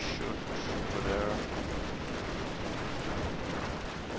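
Naval bombardment in Total War: Shogun 2 brings a dull, rumbling barrage of cannon fire, booms blurring into a continuous low roar at moderate distance, with faint game effects over it.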